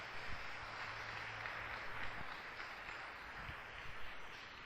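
A church congregation applauds during a Portuguese-language sermon, producing a soft, steady wash of clapping that sounds distant and fairly quiet for several seconds.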